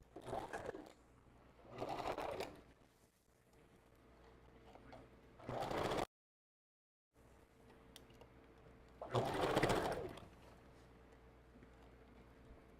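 A sewing machine sews a custom glueless wig with a first stitch and back stitch, several short loud bursts of stitching separated by quieter pauses and a brief gap.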